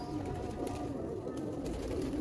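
Sialkoti pigeons coo softly and continuously close by in a loft, a low murmuring tone with a few faint higher chirps.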